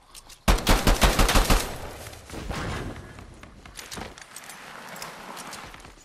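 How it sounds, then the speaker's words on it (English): A rapid burst of gunfire crackles loudly at the start, followed by quieter scattered shots and background rumble in a game scene. "Gunfire up ahead."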